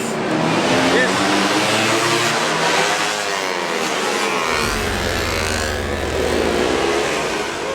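Many motorbike engines roar and drone together in a dense, loud, continuous wash at the rolling start of a three-hour motorbike endurance race in Singapore, with a deep rumble joining partway through.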